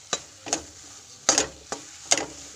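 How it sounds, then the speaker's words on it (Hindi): A spoon scrapes besan (gram flour) roasting in a kadhai over a medium-low flame: four distinct, quiet stirring strokes at an uneven pace, with a faint sizzle in between. "बेसन भुनना स्टार्ट हो चुका है"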